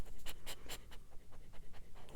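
A long-snouted dog pants rapidly and audibly close by while eating, with quick rhythmic breaths and wet mouth sounds, no voices.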